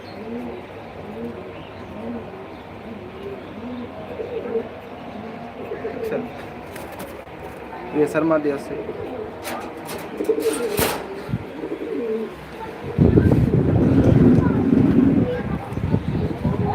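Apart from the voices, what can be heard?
pigeons cooing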